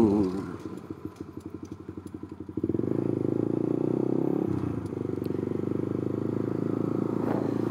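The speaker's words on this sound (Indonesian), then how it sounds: "Motor kecil, motor lincah begini nih." A small Honda CBR 150 sport motorcycle engine buzzes steadily, its putter rising sharply as the throttle opens and then holding a loud, even drone.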